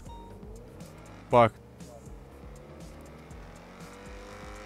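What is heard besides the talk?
car revving and tires squealing in video game GTA 5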